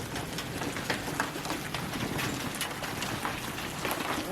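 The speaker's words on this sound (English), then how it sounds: "whoa, that's big hail." Large golf-ball-size hail pours down in a storm, a dense, continuous clatter of impacts with scattered sharper hits, heard alone at close range.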